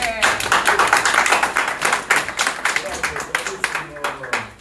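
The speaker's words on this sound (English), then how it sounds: "Claps to the master." Clapping for the master, a run of quick, sharp hand claps from a small group, close and loud, steady for a few seconds.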